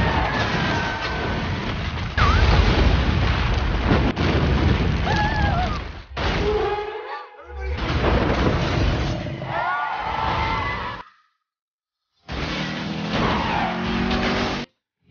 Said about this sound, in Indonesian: terjadi gempa yang sangat besar sehingga menghancurkan kota tersebut